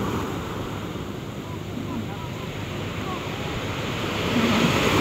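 Steady wash of ocean surf rolling in at a beach, with wind buffeting the microphone, swelling slightly louder toward the end; faint voices in the background.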